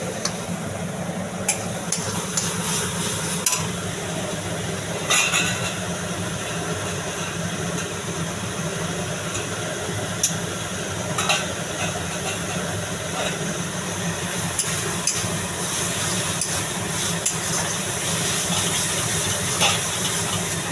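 Onion masala frying hard in a pan over a full flame, a steady dense sizzle and hiss running throughout with occasional stirring clicks, close and continuous.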